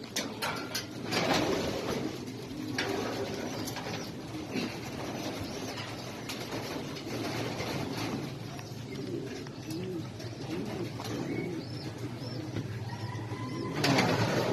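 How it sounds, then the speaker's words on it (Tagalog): Racing pigeons at a race event coo repeatedly in soft, low, rolling calls, several birds nearby over a busy background of shuffling and clatter, with no one talking. "Ito ulit ang ibon, ha?"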